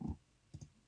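Computer mouse clicked while drawing with a pen tool in Photoshop: a soft press and release, two quiet close clicks about half a second apart.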